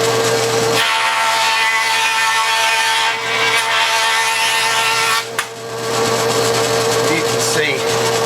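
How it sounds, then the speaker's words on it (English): Wood jointer machining a scrap board smooth, a steady loud whirring cutter drone with a high tonal whine running continuously for about eight seconds, with a brief dip near the middle. "so I'm going to just run it through the joiner to smooth it out, both sides"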